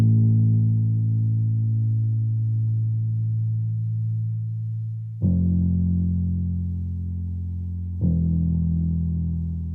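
Simple bass one-shot from a Pilgrim one-shot kit on Drumify, playing a sparse pattern: one long sustained low note, then two more struck at steady intervals, each decaying slowly, alone with no other sounds.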